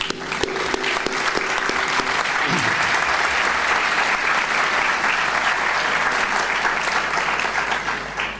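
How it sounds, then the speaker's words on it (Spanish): An audience at an emergency-medicine round table gives the nursing staff loud, sustained applause, dense and even throughout, with brief voices near the start. "para quienes pido un aplauso"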